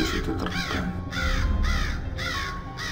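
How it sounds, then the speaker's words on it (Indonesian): A black crow caws loudly and close by, giving a run of harsh, repeated calls in a steady rhythm with little else around. "tiba-tiba kembali muncul burung gagak hitam pekat."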